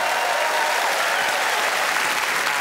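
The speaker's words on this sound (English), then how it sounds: "please give them an uplifting cheer" A television studio audience bursts into steady, loud applause mixed with cheering, a dense, continuous wash of clapping that holds at full strength for the whole stretch with no talking over it.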